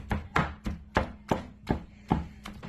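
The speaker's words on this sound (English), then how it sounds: "When you do chop brisket, you just chopping it up." A knife chops through tender smoked brisket on a board in a steady run of about eight close, crisp thuds, evenly spaced with no talking.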